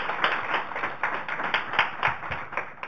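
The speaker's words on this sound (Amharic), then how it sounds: "አጨብጭቡላቸው" An audience at a student quiz competition claps for the contestants with dense, steady applause from many hands. The clapping is fairly close and carries on without pause, with no talking over it.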